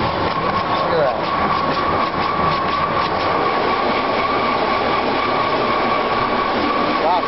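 An automatic car wash runs over a truck with a continuous loud mechanical whir and rushing spray, a steady hum running through and brief squeaky tones rising at the start and end.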